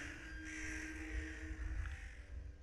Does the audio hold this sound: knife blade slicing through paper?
no